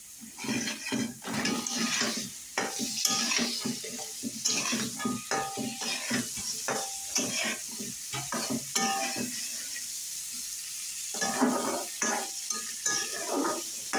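Vegetables with flat beans stirred and fried in a pan, a spatula scraping in repeated bursts over a steady close sizzle, with short pauses between strokes.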